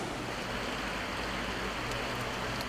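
A stream and waterfalls run through the rock gorge at Watkins Glen, filling the air with a steady, dense rushing of water that stays constant and loud throughout.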